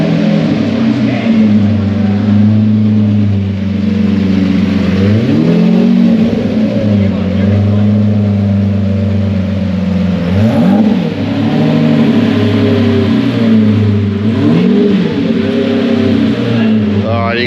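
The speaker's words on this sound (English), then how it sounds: "Lambo in the background pulling up that just came in just over here" Lamborghini pulling up at a Cars and Coffee meet at Eagle Farm, its engine note rising and falling through several revs under steady close-up talk, with a continuous low rumble throughout.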